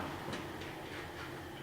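A Clausing Nardini MS 1432E lathe runs at a slow 80 RPM, giving a faint, steady mechanical rumble with a soft rhythmic clatter in a short stretch without voices.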